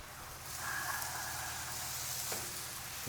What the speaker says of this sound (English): Let me drop some more on that thing so you can hear it sizzle.